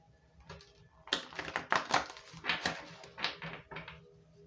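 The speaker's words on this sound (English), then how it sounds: "Let's do a shuffle." Tarot cards being shuffled by hand, a run of crisp papery riffles and taps in quick, irregular bursts, close and fairly quiet with no talk.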